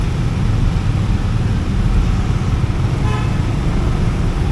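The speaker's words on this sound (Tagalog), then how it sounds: "Ayan, tulad nito, traffic." Dense road traffic rumbles loudly and constantly during a rainy typhoon, with a short car-horn toot rising briefly above the roar.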